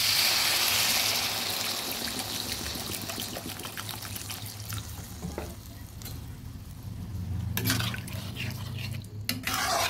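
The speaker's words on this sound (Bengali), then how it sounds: "এবার জল দিয়ে দেব।" Water poured into a pan of soybeans frying with spices, a hissing sizzle and splashing pour at first, settling into quieter bubbling and stirring scrapes, close up.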